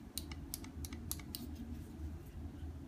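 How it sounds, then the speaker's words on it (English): Buttons on a heavy stainless steel handheld device click in a quick, irregular series of crisp taps. The clicks sit close up over a steady low hum, with no talking. "The buttons feel real nice and clicking."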